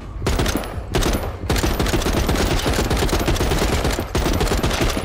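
Sustained rapid gunfire from the video game Saints and Sinners, loud and close, forms a dense near-continuous barrage of shots broken by a couple of brief pauses.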